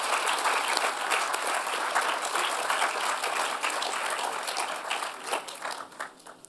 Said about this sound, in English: Let's give a round of applause to all of the recipients of the Master of Science in Applied Life